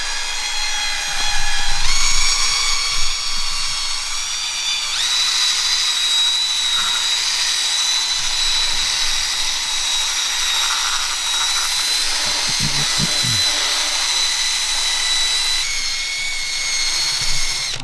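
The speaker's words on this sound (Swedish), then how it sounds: "Man tar den här borsten och så kör man så här." A brush scrubs the interior of a Lamborghini Huracan, a steady close whirring, buzzing scrub running throughout, with a brief louder burst near the start and some short rubbing scrapes partway through.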